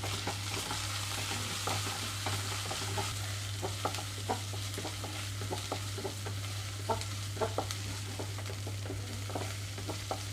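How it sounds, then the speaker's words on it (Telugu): Ginger garlic paste frying with browned onions in a pan, a steady close sizzle under a low constant hum, with light repeated stirring scrapes throughout. "ఇందులోకి అల్లం వెల్లుల్లి పేస్ట్ వేసి వేయించుకుంటున్నాను"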